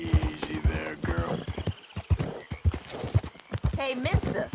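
Rhythmic clip-clop of horse hooves with a horse whinnying in the video game Red Dead Redemption 2, heard under a man's speech and game-like background sounds.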